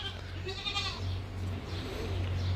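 Goats bleat on a farm, a wavering call close by followed by fainter bleats further off, over a steady low hum with no talking.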